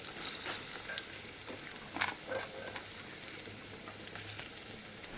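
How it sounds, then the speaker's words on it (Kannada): Onions frying in hot oil for paratha, giving a steady crackling sizzle with faint popping throughout, close but fairly quiet. "ಇದು ಎಣ್ಣೆ ಕಾಯಿತು ಅಂತ ಹೇಳಿದ್ರೆ ಒಳಗಡೆ ಹಾಕೊಂಬಿಡೋಣ ರೀ ಉಳ್ಳಾಗಡ್ಡೆ ಸ್ವಲ್ಪ ಮೆತ್ತರ ರೀ"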